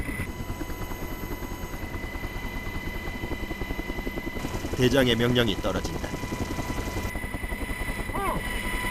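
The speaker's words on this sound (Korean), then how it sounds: "드디어 강화 지점에 멈춰선 헬기." A military helicopter hovers at the drop point for a Marine Corps high-altitude parachute insertion, around 3,700 m up. A steady, close rotor and engine drone runs throughout, with someone speaking over it.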